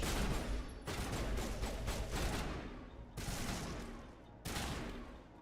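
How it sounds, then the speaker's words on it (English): Game gunfire in Mass Effect, shotgun blasts crashing out in three loud bursts, each sharp onset trailing off into a rolling decay. "Shotgun."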